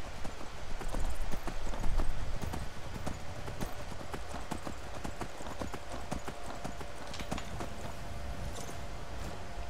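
Horse hooves clip-clopping in the video game Skyrim, a steady, fairly loud trot of repeated hoof strikes over a continuous outdoor ambience.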